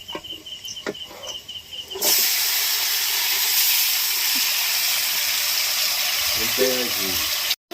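Spice-coated country chicken hitting a hot wok, breaking into a loud, steady hiss and sizzle that holds close and continuous for several seconds after a brief quieter start with clattering.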